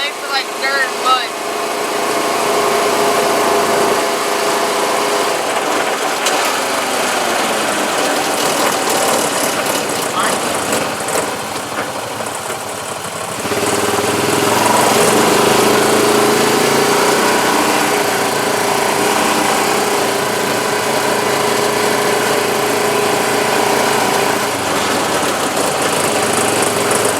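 A Honda dirt motorbike on knobby off-road tires rides over neighborhood concrete, its light high-revving engine buzzing steadily and climbing in pitch partway through, with a rider talking now and then over the engine noise.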